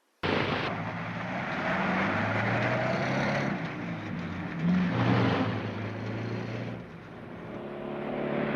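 A car from a 1938 film drives along, a continuous engine drone and road rumble with a faint rise in revs midway, steady and fairly close throughout.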